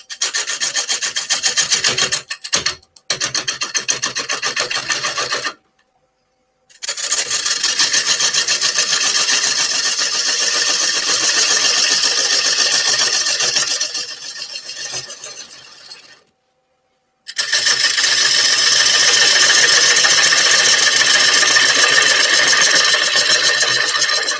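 A lump of wet walnut being turned on a lathe as the tool cuts into the middle: a loud, continuous rasping scrape that stops briefly twice, eases off at one point, and comes back strong, with no voices.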